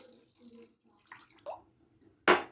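A cup of water is poured onto two large spoonfuls of tomato paste in a home kitchen, a short splashy gush near the end following faint talk and small clinks.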